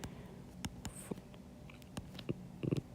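Pen or pencil writing on paper during a maths lesson on vectors: a few faint, quiet scratchy strokes and taps, close by, with a short burst of quick scribbling near the end.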